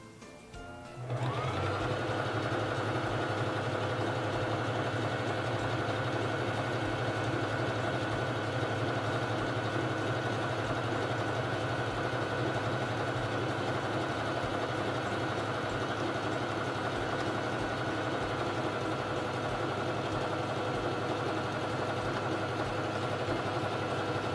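Singer 3333 sewing machine stitching a feather stitch through fabric, starting after a brief pause and then running in a steady, continuous mechanical hum with rapid needle chatter for over twenty seconds, fairly close and alone.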